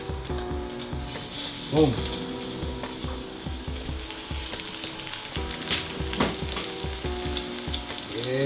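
A hot pan sizzles loudly and steadily as food for a breakfast of spicy sausage and marinated beef fries, with a brief burst as more goes in and someone talking briefly over it.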